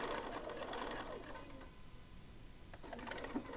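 A sewing machine stitching a quarter-inch seam along a quilt half-square triangle, running in a steady close mechanical whir that fades out partway and then picks up again briefly.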